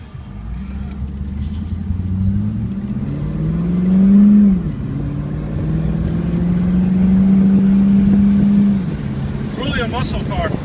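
A 2000 Pontiac Firebird Trans Am muscle car with an automatic transmission runs close by, its engine rumbling low and rising through two revving surges before settling, under a steady background.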